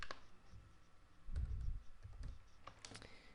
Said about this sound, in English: Let's type that down.